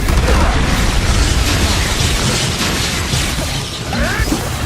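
Explosion spell blasts in the video game Hogwarts Legacy, a loud, dense rumbling burst of impacts and crackling debris filling the whole stretch, slowly easing off toward the end.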